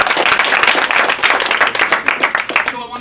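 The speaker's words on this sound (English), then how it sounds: "give yourselves a round of applause for speaking." Audience applause at a live mental health discussion event, a dense sustained clapping from a crowd filling the room for about three seconds before it thins out at the end.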